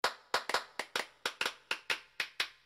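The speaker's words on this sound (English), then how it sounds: "Scattering applause, alright. Scattered applause." Roughly a dozen sharp, evenly spaced claps ring out nearby, quiet overall, sounding like a single person's polite applause with no voices, in the visual novel Full Metal Daemon Muramasa.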